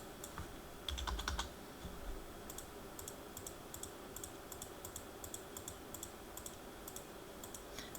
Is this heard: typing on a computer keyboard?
yes